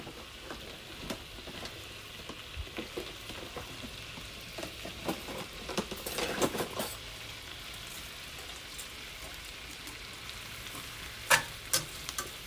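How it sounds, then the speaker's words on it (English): Butter melting in a pan for turkey Swedish meatballs, a soft steady sizzle with scattered crackles and a few scraping stirs, fairly quiet and close with no talking. "I'm going to melt that butter down"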